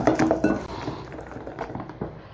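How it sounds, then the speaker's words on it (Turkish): Batter of flour and salt is whisked in a bowl until smooth, giving quick metallic clinks and scraping taps against the bowl, close and fairly quiet. "Hiç pürüz kalmayana kadar çırpıyoruz"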